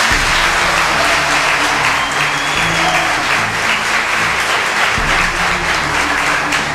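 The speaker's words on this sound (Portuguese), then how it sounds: "Salva de palmas para ali" A crowd claps for a graduate at a 2008 SENAC Louveira graduation ceremony in Brazil, sustained loud applause with a faint low murmur underneath and a couple of brief thumps.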